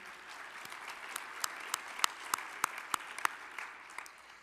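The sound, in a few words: applause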